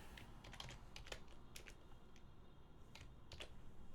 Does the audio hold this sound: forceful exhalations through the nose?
no